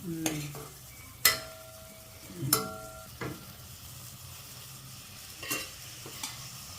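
Greens are stirred into sautéed tomatoes in a pan, giving a gentle frying sizzle under a few sharp spoon clinks and scrapes against the metal, nearby and fairly quiet.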